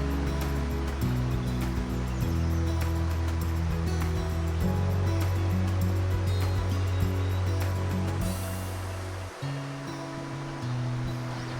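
River flowing past the bank where dippers feed, a steady broadband rush of moving water that fills the whole scene without letup, joined by low rumbling tones that shift partway through.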